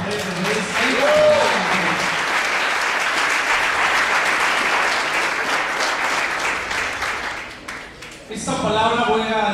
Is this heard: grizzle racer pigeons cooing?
no